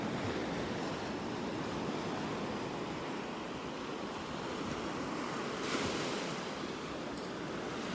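Ocean surf rolls steadily onto a beach in North Naples, Florida, a continuous soft wash of waves with light wind noise, no talking.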